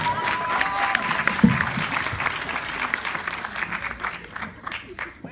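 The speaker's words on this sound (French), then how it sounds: "On applaudit beaucoup. pour Carla, s'il vous plaît." Audience applause for Carla at the Miss Afrique 2019 pageant, a sustained crowd of clapping hands with scattered shouts and voices mixed in, fairly loud and uneven toward the end.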